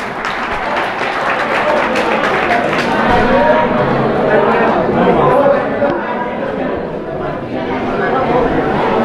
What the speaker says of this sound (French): je voudrais que vous applaudissiez vivement Monsieur Mamadouba